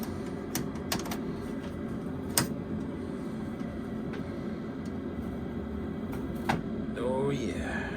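xTool S1 laser cutter working through a shop sign, giving a steady mechanical hum and whir with a few sharp clicks, and a voice speaking briefly near the end.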